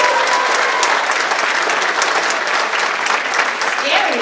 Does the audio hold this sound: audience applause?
yes